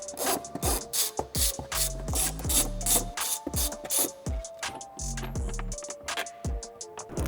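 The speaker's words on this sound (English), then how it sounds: "We're gonna go ahead and remove the 4 bolts on the bottom of our frunk." A ratchet wrench clicks rapidly in repeated bursts while loosening bolts under the front trunk of a Tesla Cybertruck, with short pauses between strokes and metallic rattles, close and fairly quiet.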